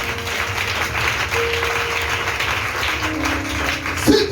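Congregation applauding at a church worship service, a steady dense wash of clapping that carries throughout at moderate loudness, with a few brief louder bursts near the end.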